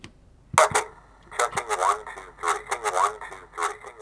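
A handheld 90s vaporwave effects machine applies a stutter effect, chopping a voice into a series of rapid, choppy, radio-like bursts that come in clustered repeats at close range.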